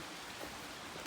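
Light rain sprinkles steadily during a hike into the Berkshires of Massachusetts, a faint, even wash of drops with no talking.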